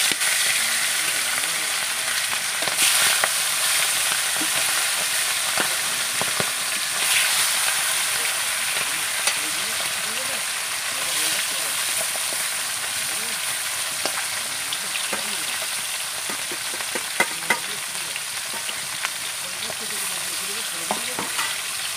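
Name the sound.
pond fish frying in a hot wok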